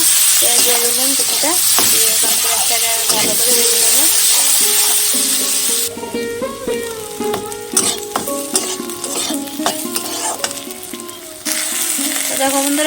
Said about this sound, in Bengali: পেঁয়াজ দিয়ে দিলাম কিছুটা দিয়ে এখন পেঁয়াজটাকে ভালো করে ভেজে নেব